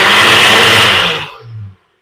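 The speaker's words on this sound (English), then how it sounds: "This is the new blender right here, y'all." A new kitchen blender runs with a loud, dense whirring roar, then winds down to a brief lower hum before cutting off into silence.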